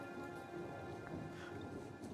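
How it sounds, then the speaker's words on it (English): Rain and thunder from a stormy scene in the video game Uncharted: Legacy of Thieves, a faint, steady hiss of rainfall with a low rumble beneath it. "Damn, it's a thunderstorm."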